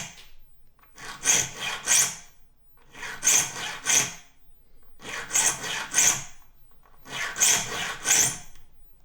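A hand file rasps across saw teeth in four evenly spaced pairs of strokes, crisp and close, each pair followed by a short silent gap, with no talking.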